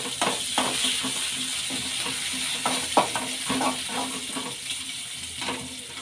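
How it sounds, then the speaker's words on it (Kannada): Green chillies and curry leaves fry in hot oil for a spiced potato filling, a steady sizzle broken by repeated scraping and clattering stirs, close and fairly loud, with no talking. "ಎಣ್ಣೆಲಿ ಚೆನ್ನಾಗಿ ಹಸಿಮೆಣಸಿನ್ಕಾಯಿ ಫ್ರೈ ಆಗಲಿ. ಈಗ ಕರಿಬೇವಿನ ಸೊಪ್ಪು ಸೇರಿಸ್ಕೊಳ್ಳೋಣ."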